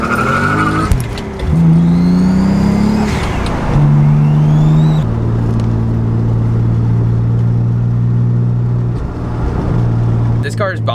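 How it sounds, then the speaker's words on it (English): A turbocharged car accelerates hard through several gears, its engine note climbing in long rising sweeps with high turbo whistles and brief blow-off valve hisses between shifts, loud and close. "The turbo spool and blow-off valves and how quick it spools has changed tremendously on this car."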